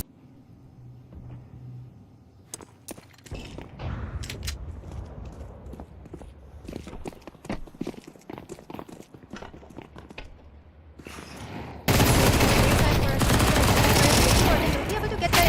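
Gunfire in Counter-Strike 2 during an esports semi-final match: scattered sharp shots and short bursts with footsteps in between, then a loud, dense stretch of firing at the end, under a commentator's voice.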